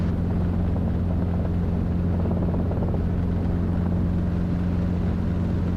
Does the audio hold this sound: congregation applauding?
no